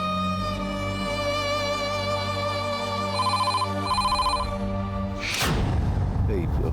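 A telephone rings loudly with a warbling electronic tone that repeats in steady pulses, then a thud and rustle break in as it is answered.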